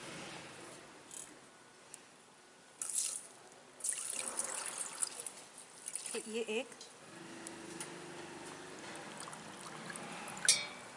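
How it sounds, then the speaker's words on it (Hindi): Water from a glass is poured into a pot of herbal digestive decoction ingredients in a home kitchen, with several short splashing pours and a voice speaking briefly between them. "तो इसमें ये सब इंग्रेडिएंट्स में मैं 4 ग्लास पानी डाल रही हूँ।"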